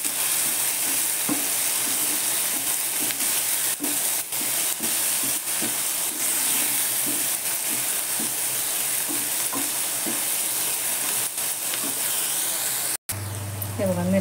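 Green chillies sauté in a pan with salt, giving a continuous close sizzle broken by regular scraping stir strokes, with a brief cut near the end.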